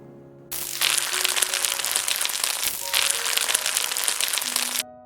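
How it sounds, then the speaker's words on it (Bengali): Fish roe dropped into hot oil in a pan, a loud bright sizzle bursting in, easing briefly, then surging again before cutting off, with no talk over it. "তারপরে আমি গরম গরম এটা খাওয়ার আগে ভেজে নিচ্ছি।"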